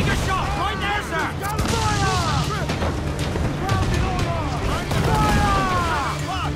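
Ship cannons from Assassin's Creed IV Black Flag boom in a continuous naval battle, heavy blasts rolling under shouting crew voices and a loud, dense wash of combat noise.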